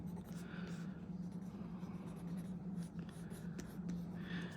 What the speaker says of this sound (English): I don't know what lead I got in this pencil, but on this particular paper it's coming out pretty good